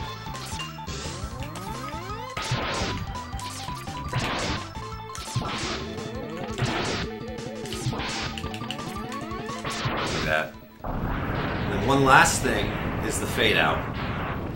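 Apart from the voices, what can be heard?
boss defeat explosion in Mega Man X video game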